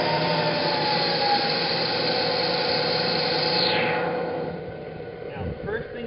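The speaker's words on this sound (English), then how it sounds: "So turn on the lathe motor, bring the RPM down to 800." A lathe motor runs with a steady broadband mechanical hum and whine for about four seconds, then winds down as the spindle slows, ending with a few faint clunks.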